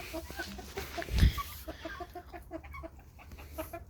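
Young and adult chickens clucking softly in short repeated notes, with one louder squawk early on, over steady farmyard background noise on a September morning.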